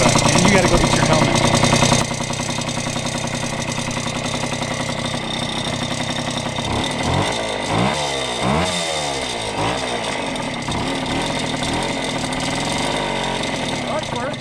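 A 1974 Indian ME 100 motorcycle's small engine running nearby, a steady buzzing drone that drops slightly after a louder first couple of seconds and continues at an even level, with voices talking over it.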